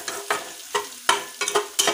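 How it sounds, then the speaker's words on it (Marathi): Onion fries in a pan for dal tadka, giving a soft steady sizzle broken by about six sharp scraping stirs of a spoon, close up and fairly quiet. "कांदा पण लालसर तळून घेऊ आपण"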